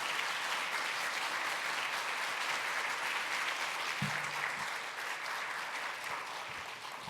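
Steady applause from a church congregation fills the whole stretch, a dense even patter of clapping that fades slightly toward the end.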